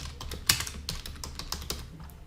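Rapid typing on a computer keyboard while entering test credit card details at checkout: a steady flurry of close, crisp key clicks with a few harder strokes, no voice.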